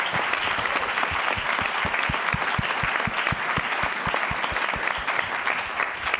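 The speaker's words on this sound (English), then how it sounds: "Give him a round of applause, please." Audience at a White House lead pipe summit gives a round of applause, broad continuous clapping with a steady rhythmic thump of nearby hands running through it.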